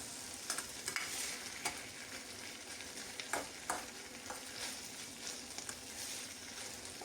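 Paneer and capsicum sizzling in a pan while being stirred, a soft steady frying hiss punctuated by scrapes and taps of the spatula.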